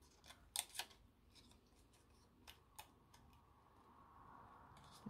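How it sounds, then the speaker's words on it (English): Scissors snipping through acetate sheet while making a pop-up card, a few sharp close clicks and cuts in a quick cluster followed by sparser single snips in a quiet room. "just slide the scissors under slightly, so it's still stuck to it"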